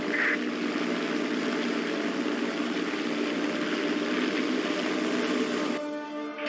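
Aircraft engine in War Thunder throttling up, a steady loud droning hum held at even pitch for several seconds before cutting off abruptly near the end.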